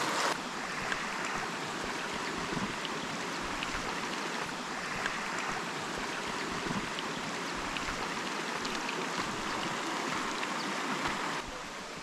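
A forest stream near a waterfall rushes steadily and continuously, a broad close wash of flowing water with no voices.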